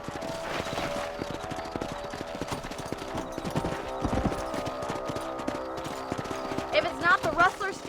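Horses gallop in Red Dead Redemption with a steady, close clip-clop of hooves that runs the whole time, under game ambience and voices, with a short whinny-like rise near the end.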